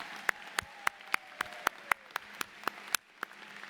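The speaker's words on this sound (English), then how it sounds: "How about a round of applause for them?" Steady, evenly spaced claps, a dozen sharp hits in quick succession, sound quietly in a hall as the audience applauds the symphony band at a community college commencement ceremony.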